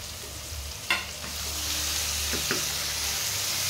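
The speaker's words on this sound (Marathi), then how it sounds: "आपण कट केलेले टोमॅटो आहे ते यामध्ये टाकून घ्यायचं आहे." Chopped tomatoes sizzle as they fry in a pan, a steady close hiss with a sharp spatter or clink near the start and a few faint stirring taps later.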